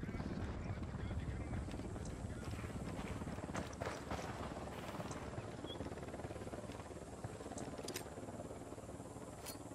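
A helicopter approaching in the video game Ghost Recon Wildlands, heard as a steady, dense rotor roar with sporadic sharper clicks and clatters in the mix, continuous and fairly loud for the whole stretch.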